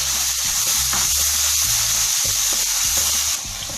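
Biryani masala and yogurt sizzle and fry steadily in a pan over medium heat for a vegetable biryani, with a broad continuous hiss and occasional stirring scrapes, close and loud with no talking.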